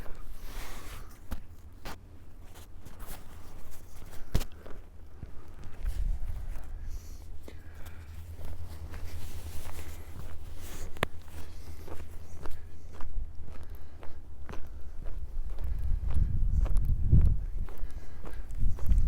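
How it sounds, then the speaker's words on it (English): Footsteps crunching softly over warmer, less crisp snow in A.E. Wilson Park in Regina, a steady walking rhythm close by, growing a little louder toward the end, with no talk. "Snow's not as crunchy today because it's warmer."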